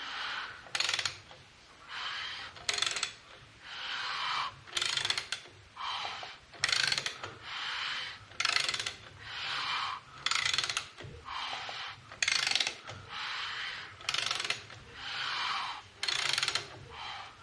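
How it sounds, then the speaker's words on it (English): Torque wrench clicking and ratcheting in a steady rhythm while cylinder head bolts on a 1975 Harley-Davidson XL engine are tightened, about a dozen close, crisp bursts separated by short pauses, with no talk. "I'm going to show you how I torque them up."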